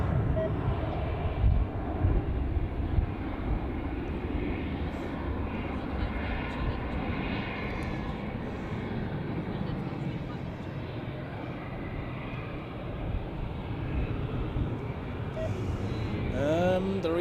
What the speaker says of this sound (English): this Edelweiss A320 from La Palma